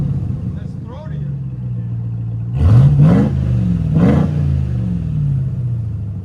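Revs from a RAM TRX fitted with Dynomax race bullets exhaust: a deep throaty rumble with two sharp blips of revving close by, then settling back to idle, with someone talking over it.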